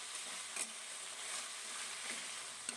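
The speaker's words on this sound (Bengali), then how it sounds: "এবার আমি শাকটাকে একটু নাড়া দিয়ে নেব।" Mustard greens with two slit green chillies fry in a pan as they are stirred, giving a steady, fairly quiet sizzle with faint scraping throughout.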